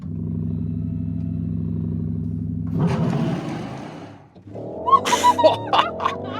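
A 2026 Porsche Cayenne EV Turbo surges from 50 to 100 km/h: a steady electric-motor hum gives way to a rushing swell of wind and road roar, ending in loud, uneven bursts that may be voices.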